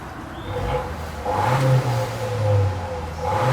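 A 2019 Honda Accord Sport with the 1.5-liter turbo engine and its resonator removed, mufflers still on, revs in a few rising pulls, a steady idle hum between the louder surges, close by and with no talk.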